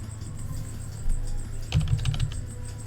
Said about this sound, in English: At least to me, I've always preferred mechanical keyboards.